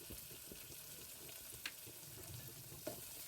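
Onions, green chillies and curry leaves fry in oil with a soft, faint crackling sizzle, punctuated by a few light clinks and scrapes from stirring.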